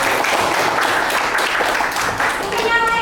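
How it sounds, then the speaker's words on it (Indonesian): A classroom of students claps in applause for a classmate, a dense, steady patter of many hands with some voices mixed in throughout. "Tepuk tangan untuk Topik dulu."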